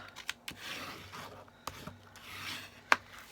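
Folded paper for a reindeer gift card holder being creased by hand, heard up close as soft rubbing strokes broken by a few crisp taps and one sharper snap near the end, no voices.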